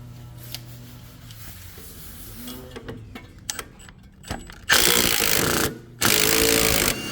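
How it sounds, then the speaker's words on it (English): Metallic wrench and tool noise from loosening a 17 mm bolt on the upper control arm of a 2005 Acura RL: scattered clicks and knocks, then two loud, harsh sustained bursts near the end. "So as I'm loosening this bolt, I'm pushing with my right hand because this is where the bolt is"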